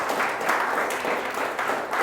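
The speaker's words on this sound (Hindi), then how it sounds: "आइए जोरदार ताली से खुदावंद यीशु मसीह को धन्यवाद करें।" Applause from a church congregation giving thanks during a Hindi-language sermon, a dense steady clapping that carries on without pause for about two seconds.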